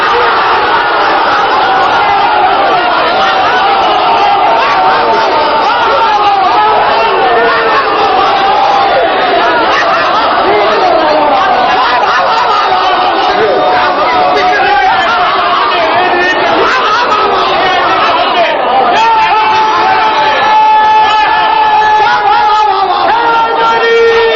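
An audience at Allama Ghazanfar Abbas's religious speech chants a slogan in unison, a loud and continuous mass of voices that carries on without a break from start to finish.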